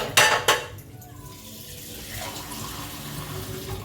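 Water runs from a tap into a metal cooking pot while African porridge is being made, after two sharp clanks of the pot, and then it becomes a steady close splashing pour.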